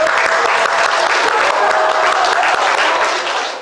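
A loud crowd applauds at a live talk show event, dense continuous clapping that holds steady and tapers slightly at the close.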